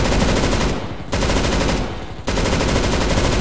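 Counter-Strike gunfire rattles in loud, sustained automatic bursts, broken by two short pauses, close and dominant with no talk over it.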